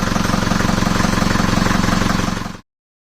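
A Ford Transit van's engine runs with the hood open, a loud, steady, rough mechanical drone with rapid rhythmic pulsing, heard alone close up before cutting off abruptly near the end.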